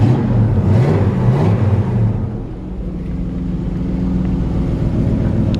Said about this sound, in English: nice sounding exhaust